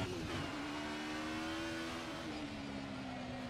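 A race car engine in a 90's DTM sim racing game at the Nurburgring revs loudly and steadily, its pitch climbing under acceleration before a brief dip at a gear change, then pulling again.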